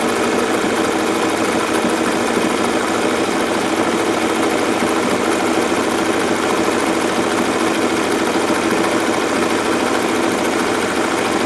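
A Singer 401A sewing machine stitches with Sulky Sliver metallic thread, a steady, loud, continuous mechanical whir and rapid needle clatter running without pause throughout, with no voices.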